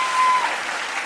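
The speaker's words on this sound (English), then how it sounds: "I feel like they're clapping because it's good." A crowd claps steadily, a dense wash of applause that holds at an even level, with a brief tone fading near the start.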